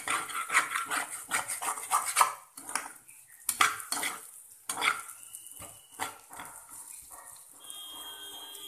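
Bitter gourd fries in a pan over medium flame while a utensil scrapes and stirs it, giving irregular metallic clinks and scrapes over a soft sizzle, with a few quieter pauses.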